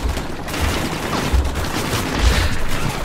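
Rapid bursts of video game gunfire in Call of Duty: Modern Warfare 2 crackle continuously over a dense, noisy background, with heavier booming thumps at intervals.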